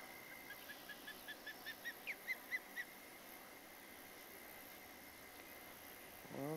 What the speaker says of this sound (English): And there's that crazy bird